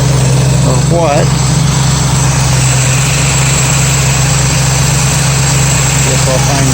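A 1965 Ford Mustang idles steadily with its cooling fan running, a constant low engine drone and whirring fan that fill the whole stretch. Faint talk can be heard underneath.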